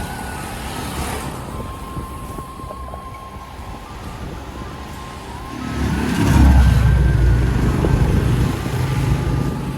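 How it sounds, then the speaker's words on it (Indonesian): Slow traffic crawls in a jam on the mountain road through Lembah Anai, a steady engine rumble and road noise with a vehicle passing close partway through, swelling louder, and wind touching the microphone. "Kalau dilihat macetnya sampai ke dalam ini kayaknya, nggak seperti biasanya ya."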